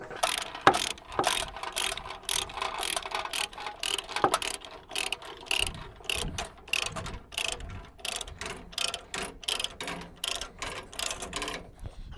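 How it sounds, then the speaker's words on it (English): Ratchet strap tightened by hand on a trailer carrying a John Deere 5075E tractor, a close series of sharp rhythmic clicks repeating steadily in quick strokes. "I could just use the ratchet and go ahead and ratchet it tight"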